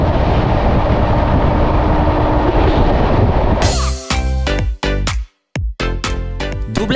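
The Dhauli Express passenger train rumbles steadily and loudly near the platform, then breaks into a run of sharp, uneven metallic clanks and clatters.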